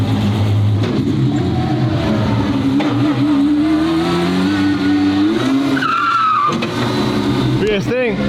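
Twin-turbo V12 Ferrari driving in circles, its engine a loud steady drone with a brief tire squeal near the end and people talking over it.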